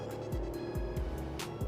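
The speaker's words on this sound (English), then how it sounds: "you get to hear the roar of the engine" Engine of a 2021 Ford F-250 XLT truck with the Tremor off-road package revving up to speed, heard up close as a steady loud drone with repeated low surges and gear shifts.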